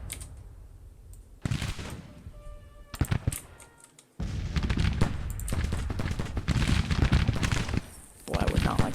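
Cannon and rifle volleys in a Civil War battle video game, bursts of sharp gunfire and heavier booms separated by brief lulls, with dense crackling fusillades and someone talking intermittently.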